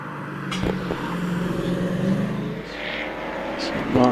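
A Reliant Scimitar racing car on a hillclimb run at Prescott sounds at a distance as a moderate engine drone, heard under a commentator's steady talk.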